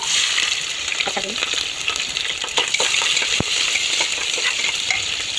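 Steady crackling sizzle of onions frying in hot oil for mutton biryani, dense and close, with occasional scraping stirs and small clicks throughout.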